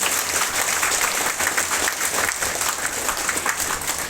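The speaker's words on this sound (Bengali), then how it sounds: "আপনাদের নিজেদের জন্য একটা বড় করে হাততালি করবেন" An audience at a company motivational event claps together in a dense, sustained round of applause, steady and fairly close throughout.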